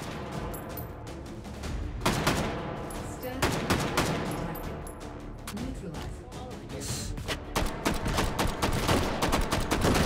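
Rapid gunfire rings out in Hot Dogs, Horseshoes & Hand Grenades, a VR shooter on an HTC Vive, on a tower custom map: loud bursts of automatic fire and single cracks repeat irregularly across the whole stretch.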